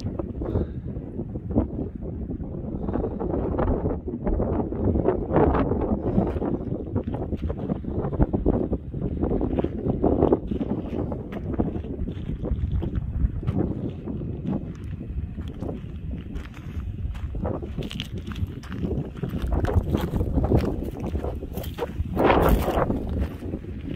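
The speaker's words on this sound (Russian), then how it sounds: "Очень сильный ветер." Very strong wind in Death Valley roaring steadily into the microphone, loud and gusty throughout, with occasional thumps and rustles and no voices.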